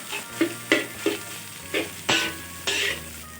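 Jasmine rice is stir-fried with Chinese sausage in a pan, heard as about eight rhythmic scraping strokes of a spatula over a steady low sizzle, close and with no talking.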